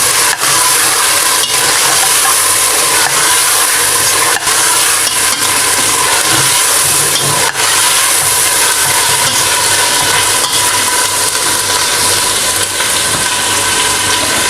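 Garlic-ginger paste fries with meat in a pot, a loud, continuous sizzle with occasional stirring scrapes throughout.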